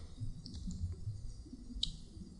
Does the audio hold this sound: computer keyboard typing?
yes